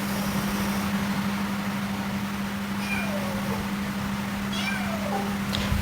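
A cat meows a few times, soft and a little distant, over a constant low mechanical hum that fills the whole stretch.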